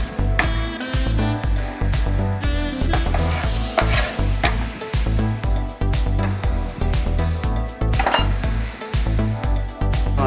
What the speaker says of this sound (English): Get our leeks and start frying the leeks off.